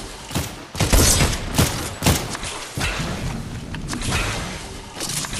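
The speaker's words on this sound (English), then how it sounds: "there's people shooting up here like hell" Loud bursts of gunfire and explosive thumps in Fortnite, with several sharp volleys early on and a continuous rattle of shots afterward, close and intense.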